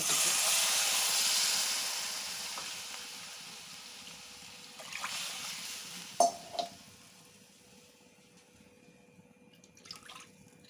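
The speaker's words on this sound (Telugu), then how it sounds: "సో దీంతో 4 కప్పులు పోయాలి వాటర్." Water poured from cups into a pan while making upma with milk, a soft broad splash and hiss at first that fades, followed by a few brief clinks and small pours, with no talk.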